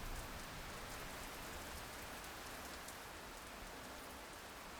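Steady thunderstorm rain falls with a soft, even hiss, a constant wash of drops with no voices.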